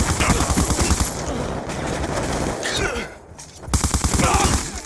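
MK48 machine gun fire in Black Ops 2 crackles in loud, rapid sustained bursts, broken by a short lull before another close burst, with game voice callouts faintly underneath.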